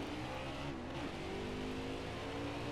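Race cars in NASCAR Heat 4 at Dover accelerate together in a steady, loud engine roar, layered revving tones holding constant throughout with no talk.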